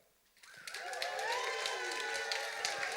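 A conference audience at a founder stories afterwork event breaks into sustained applause with some cheering, swelling quickly from quiet and holding loud and dense to the end.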